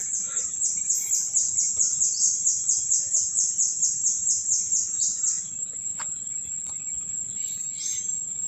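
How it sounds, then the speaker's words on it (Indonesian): A bird calls in a forest near a cave with a rapid, high, trilling series of repeated notes for about five seconds, then a sustained thin tone with a few scattered chirps over a quiet background. "Sana ada burung sahabat."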